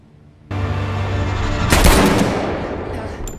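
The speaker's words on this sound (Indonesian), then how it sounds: "Tembakan tadi berhasil melukai perut Varric" Gunshot in a hitman action film, a sudden loud blast over a sustained tonal drone, followed by a bright cracking burst and a long decaying rumble.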